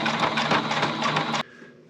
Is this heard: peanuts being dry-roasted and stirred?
no